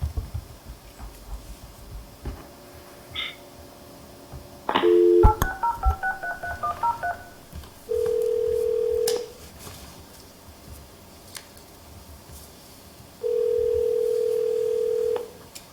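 A telephone on a speakerphone line at a public budget hearing plays a short burst of quick DTMF dialing beeps, then two long, steady ringback tones separated by a pause, over faint room noise.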